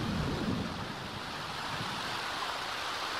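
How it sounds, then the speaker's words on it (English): Steady hissing rain pours down continuously in The Sims 4 video game, a soft broadband wash with no voices. "Look at this rain."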